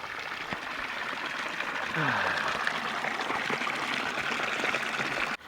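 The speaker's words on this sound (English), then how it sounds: "Saved by the water fountain." A public water fountain in a small Spanish town along the Camino de Santiago trickles and streams steadily, the splashing water holding a constant level close by across the whole stretch.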